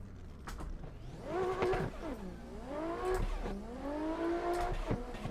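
GT86 cars tandem drifting on the Irwindale track in Forza, with engines revving and pitching up and down through the slide, tires squealing, and the cars heard close and loud.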